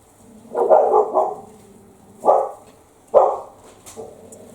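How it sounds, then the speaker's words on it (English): A dog barks in a kitchen where buttermilk biscuit dough and sawmill gravy are being mixed, giving a quick double bark followed by two single loud barks, close by and clear. "Dog's gonna go mad just because it's a nice day for once."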